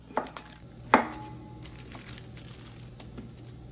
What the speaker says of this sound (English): we're just going to cut this into strips